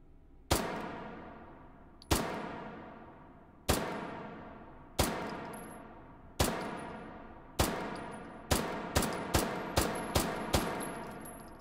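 Pistol fire from an F12 in a video game, aimed at a target: eleven sharp shots, the first several spaced roughly a second and a half apart, then a quicker string of five or six close together, each loud with a ringing decay.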